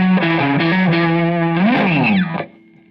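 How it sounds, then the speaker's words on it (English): Electric guitar driven through a JHS Angry Charlie high-gain distortion pedal, playing thick sustained chords with a bending, sliding phrase near the end before the notes cut off and ring out into quiet. "the JHS Angry Charlie is more of like a distortion"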